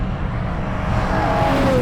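A Ferrari super SUV's engine hums steadily and then begins to rise in pitch as it revs, heard loud and close with no talking.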